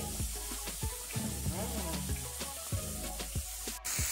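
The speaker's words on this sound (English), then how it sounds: "the chicken is still frying" Steady sizzling of chicken frying in a hot pan, with a few light clinks and stirring knocks scattered through.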